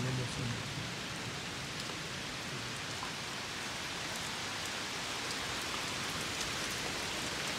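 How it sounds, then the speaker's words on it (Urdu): Heavy rain pours down during a downpour in Britain, a steady dense hiss of drops hitting surfaces that stays loud and even throughout with no voices. "اور یہ بارش بڑی تیزی سے جو ہے نا وہ برس رہی ہے"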